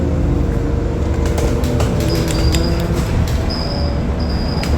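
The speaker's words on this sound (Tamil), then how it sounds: "இதுதான் இத்தாலி பஸ்ஸு." Riding inside a moving bus in Italy: a constant loud low rumble of engine and road noise fills the cabin, with faint rattles and a few brief high tonal squeaks along the way.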